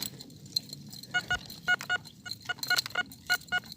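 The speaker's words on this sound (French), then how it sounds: "Et mon détecteur sonne encore dans le trou." A metal detector sounds over a dug hole in the ground, giving a run of short, sharp electronic beeps and chirps in quick irregular bursts, close and fairly quiet, with no speech.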